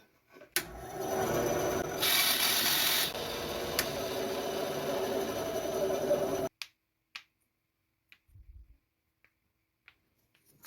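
A small saw cuts a joint into a wooden lure blank, a close scratchy rasping of strokes lasting several seconds before stopping abruptly, followed by near silence with a few faint taps and knocks.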